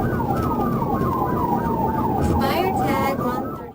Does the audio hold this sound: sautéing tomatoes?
no